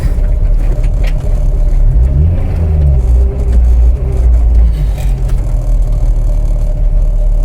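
A 1998 Honda Integra Type R coupe with a 1.8-litre VTEC engine runs loud and close, a deep steady drone with rising and falling pitch sweeps from a brief rev in the middle.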